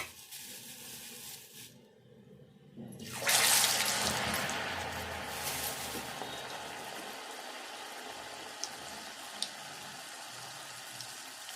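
Moong dal garelu (lentil fritters) frying in hot oil on a low flame, a steady close sizzle that swells loudly after a quiet start and then holds in a dense, even bubbling hiss.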